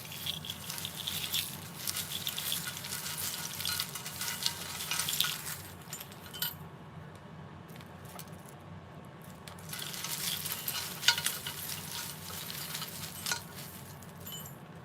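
Small buttons and assorted little objects are handled and stirred together by hand, making a continuous close, soft rattling and clicking texture with quieter stretches in between.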